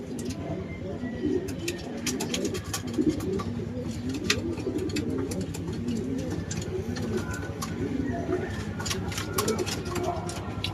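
A pigeon coos close by in repeated soft, low rolling calls, with other small bird sounds and light clicks around it, while a person talks over part of it.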